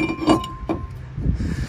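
Brake rotor being fitted onto the front hub of a 2001-2007 Ford Escape: a couple of close metallic clinks and a light scrape, short and alone.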